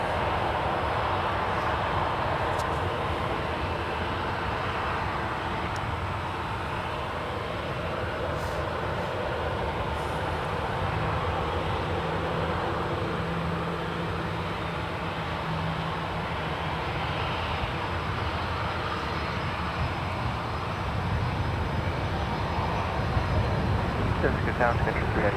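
A Swiss airliner comes in to land at San Francisco International Airport, a broad sustained engine roar that holds steady and swells slightly toward the end, heard from a distance with people talking over it.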